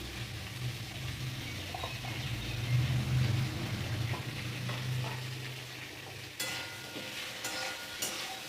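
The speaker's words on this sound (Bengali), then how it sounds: "5 মিনিট সবজিটাকে খুব ভালোভাবে ভেজে নেব।" Cauliflower stalks and other vegetables fry in a pan with a steady close sizzle, with occasional stirring scrapes and clinks toward the end.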